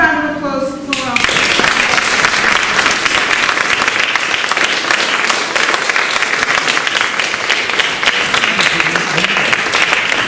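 Audience applause for the Windmill Players after a murder mystery stage show: a dense, steady burst of clapping from a crowd that starts abruptly after a brief voice and carries on loudly to the end.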